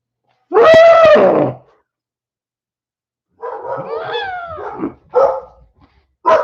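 Dogs indoors give one loud, sharp bark, then after a pause a run of whining, yelping barks and a few shorter yips close by, with silence between the bursts.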